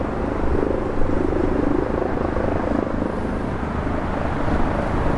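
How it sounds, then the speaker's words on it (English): A helicopter hovers over Park Lane, producing a steady, loud low rumble and drone that holds evenly for the whole stretch without talk. "There is unfortunately a helicopter hovering in the sky over there."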